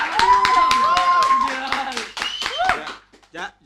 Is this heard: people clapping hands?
yes